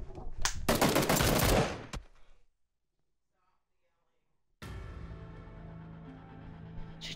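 Bursts of automatic gunfire from enemy players in PUBG crackle loud and close in rapid strings, then cut to near silence before steady in-game ambience and further noise return.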